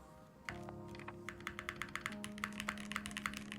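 Typing on a link65 mechanical keyboard, including the spacebar, a quick run of close, crisp key clacks in an uneven rhythm over a low steady hum.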